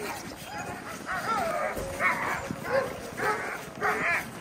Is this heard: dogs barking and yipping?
yes